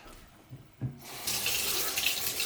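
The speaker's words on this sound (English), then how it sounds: "Put some warm water in there." Warm water gushes from a kitchen tap into a container for testing yeast. A couple of soft knocks come first, then the flow starts about a second in and runs steadily and fairly close.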